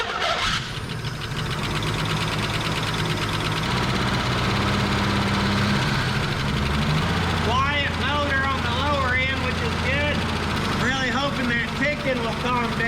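A 1969 Chevrolet Camaro engine, abandoned for 30 years, runs continuously and loudly with a steady low rumble and a chattery top end, while people talk excitedly over it through the second half.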